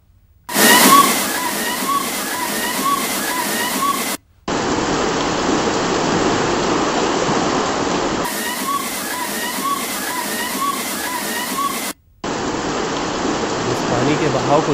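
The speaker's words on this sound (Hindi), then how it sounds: "अब देखिए बारिश की वजह से गलियां कैसे समंदर में तब्दील हो गई हैं।" Floodwater rushes loudly through narrow streets after heavy rain, making a continuous roaring slosh close to the listener with abrupt cuts between segments.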